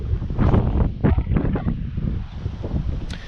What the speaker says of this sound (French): il y a pas mal de vent, donc j'espère que ça va pas faire trop de bruit avec la caméra